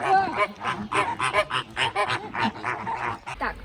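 Flamingos at a zoo in Cottbus give a rapid string of about a dozen nasal, goose-like honks, close and fairly loud, with no pauses between calls.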